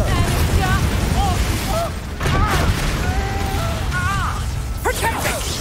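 Spell blasts from Hogwarts Legacy boom and crash in rapid succession with game effects and music, while a voice calls out spell names over the action.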